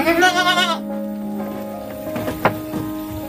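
Senduro goats bleat in a farm pen, one loud, wavering cry up close followed by fainter calls and light rustling, with steady rain-like patter in the background.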